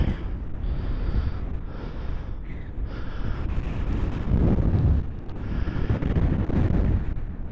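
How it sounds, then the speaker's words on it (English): Strong wind buffeting the microphone while riding a Honda CRF300L on back roads to Jedburgh, a loud, continuous low rumble that swells and eases, with engine drone beneath and no talk. "It's hard windy."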